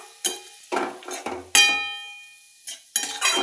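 A spatula stirs chopped banana stem with oil, salt, turmeric and green chilli in a pan, giving sharp metallic scrapes and clinks in uneven bursts over a soft sizzle, with no talking.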